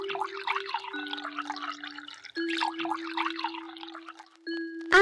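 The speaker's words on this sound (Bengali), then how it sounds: "ওর হাড়িতে একটু রস ঢেলে দে" Date palm juice poured from a vessel into a small clay pot, a steady liquid trickle and drip running throughout with a faint tonal ring, ending in a brief louder splash.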